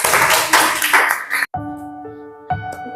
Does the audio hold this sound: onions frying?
no